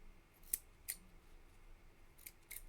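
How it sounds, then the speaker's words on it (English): Scissors snip gray yarn in a quiet room, giving a few sharp, close metallic clicks, two near the start and a pair near the end. "These scissors are kind of bad."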